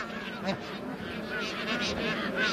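Geese honking an alarm in a cold valley, scattered nasal calls over a steady background hiss, moderately distant, with faint murmuring beneath.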